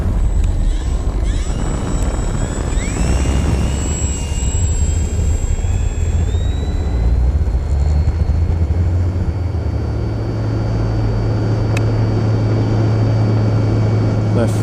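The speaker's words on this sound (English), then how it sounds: "today we're flying the T28 Trojan" An RC T-28 Trojan model airplane flies with its engine droning and whining, pitch sliding up and down as it passes, loud and continuous throughout, with an outdoor rumble beneath and no speech.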